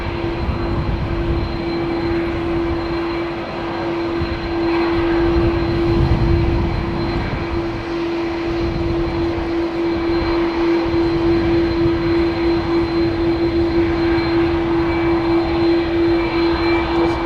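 An Air Algérie A330 with CF6 engines departs Heathrow with a loud, sustained jet roar and a strong steady whine, swelling slightly as it climbs away.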